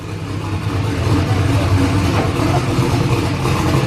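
Ford race car engine on a dyno, roaring loudly and steadily in a dense, rough, continuous drone that holds at high load throughout without pausing.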